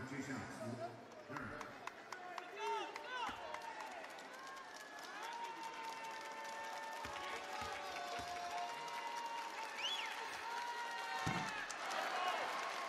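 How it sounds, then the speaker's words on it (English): Home crowd at a B.League basketball game between the Ryukyu Golden Kings and Chiba Jets, a broad steady roar of cheering and applause building over several seconds, with commentators talking over it. "Home crowd trying to rally behind the Morocco man"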